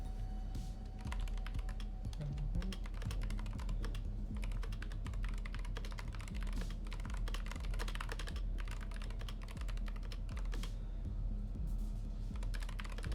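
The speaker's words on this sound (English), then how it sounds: "I was wondering what you were typing" Rapid, furious typing on a computer keyboard, a dense continuous clatter of keystrokes lasting throughout, close and steady with a low background hum and no talk.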